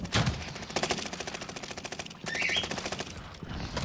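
Rapid bursts of automatic gunfire in Call of Duty on the Caldera map crackle in quick succession, with a brief pause before another burst of shots rattles on.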